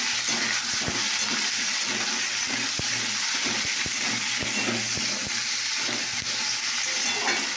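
Potatoes frying in hot oil in a pan, a steady dense sizzle broken by frequent sharp scrapes and knocks of a spatula stirring, close and continuous, with no talk.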